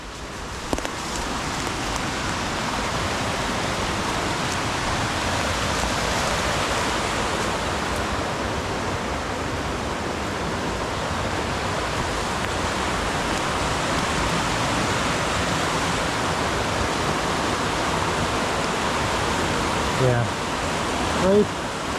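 A waterfall beside a cave path in Pennsylvania roars in a dense, continuous rush of falling water, close and loud, holding an even level from start to finish.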